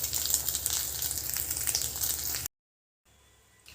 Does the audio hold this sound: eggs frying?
yes